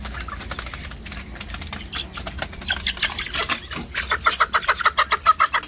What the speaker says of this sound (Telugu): నాలుగు పిల్లలు భీమవరం సంబంధించిన పిల్లలు ఉన్నాయి